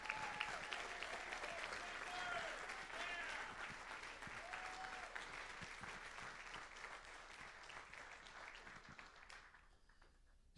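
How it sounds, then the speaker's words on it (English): Audience applause at a fall college letter-of-intent signing event for athletes, a sustained round of clapping that fades out near the end, with some voices mixed in. "just one more big round of applause for these fine young men and women"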